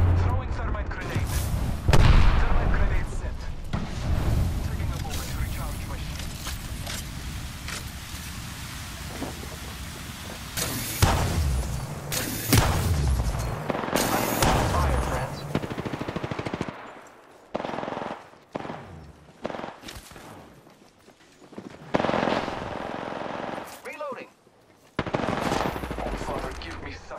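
Rapid automatic weapon fire crackles through an intense Apex Legends firefight, long sustained bursts broken by short pauses, grenade blasts and gaps of near silence, with a voice speaking intermittently over the gunfire.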